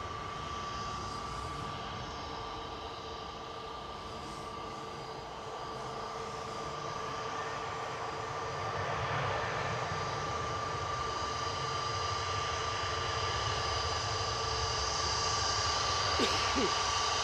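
An Aer Lingus Airbus A330-300 jet lands at Manchester Airport with a continuous, steady engine roar that holds for the whole stretch and swells slightly louder near the end.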